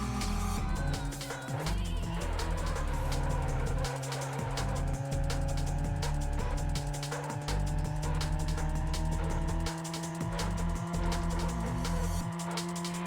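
A 2-litre turbo Opel Insignia family saloon in a PS1 racing game, its engine droning steadily at close range with rising and falling pitch, loud and continuous with no talk.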